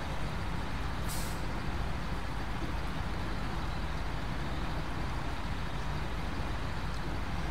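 A heavy truck rolls along a paved road in the game SnowRunner, giving a constant loud rumbling engine and road noise with one short hiss early on, no speech.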